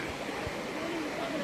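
A shallow river with low water flows past a crossing point on the way to an elephant camp in Coorg; a soft, steady gurgling rush with a couple of low thumps early on.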